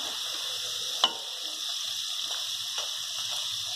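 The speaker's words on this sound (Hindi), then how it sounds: "मैंने इसको सिम गैस पर ही डीप फ्राई किया है" Fast-day pakoras deep fry in oil on a low gas flame, giving a steady close sizzle and crackle with one sharp clink near the start and a few faint taps.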